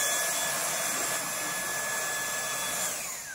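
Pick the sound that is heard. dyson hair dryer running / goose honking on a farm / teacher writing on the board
dyson hair dryer running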